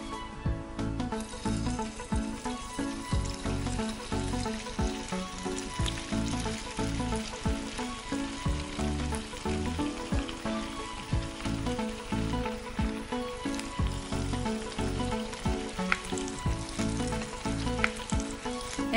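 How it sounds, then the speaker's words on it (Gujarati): Kakara pitha dumplings deep-fry in hot oil, a loud, steady, close sizzle and crackle that continues throughout with no talk. "હવે આપણે એને તળી લઈએ."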